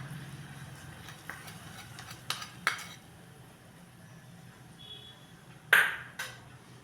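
A spoon clinks and scrapes against a metal pot a few times while stirring hot tempering into dadpe pohe, with sharp pings standing out over a quiet background.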